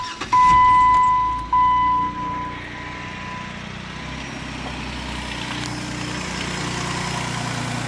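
A 2007 Jeep Wrangler Unlimited X engine runs steadily at idle, a close low rumble that follows a brief loud clatter and a tone at the start.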